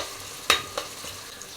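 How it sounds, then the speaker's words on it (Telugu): Onions with green chillies fry in a pan for gongura prawn curry, a soft steady sizzle broken by a sharp clink of a spatula against the pan and a fainter second tap. "ఈ ఉల్లిపాయలు బాగా వేగాలండి"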